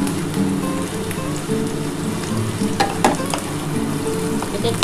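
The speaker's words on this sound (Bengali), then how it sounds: "কাজুগুলো দিয়ে দিলাম, টমেটোটা দিয়ে দিলাম। এটা আমি ভালো করে আগে ভেজে নিই।" Cashews and tomato fry in a pan for a dhaba-style chicken bharta masala, with a continuous close sizzle like light rain and a few sharp clinks and scrapes of stirring.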